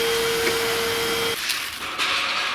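An Ozito 18V Power X-Change cordless wet/dry vacuum cleaning solar panels runs loud and close as a steady motor whine and airflow roar, its tone shifting partway through as the nozzle moves.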